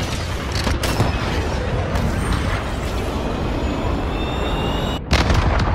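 Cruise missile launch and explosions in a cyber attack video game, heard as a dense, loud rumbling roar that holds steady, with a sharp cut near the end before the blast noise resumes.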